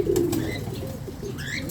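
Pigeon cooing with low, soft repeated notes inside an indoor bird enclosure, steady and fairly close, with faint chirps and background noise around it.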